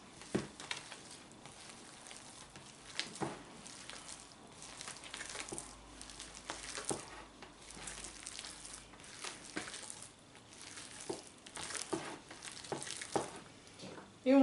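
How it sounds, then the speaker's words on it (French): Potato croquette mixture stirred together with an added egg: soft, faint, irregular squelching and scraping strokes close by in a quiet room, with no speech. "On va ajouter l'œuf. On mélange tout ceci."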